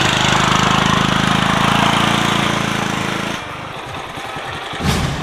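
A motorbike engine runs close by with a loud, steady rumble, then drops to a rougher, quieter idle partway through.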